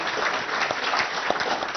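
A lecture audience claps together, a dense and steady patter of many hands that holds at an even level for the whole short stretch, with no voices over it.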